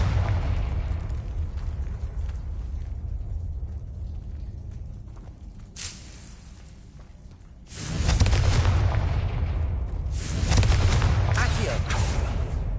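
Confringo explosion spells blast in the Hogwarts Legacy video game. Booming bursts go off, loud and close, with a quieter crackling stretch between them and heavier rumbling blasts near the end.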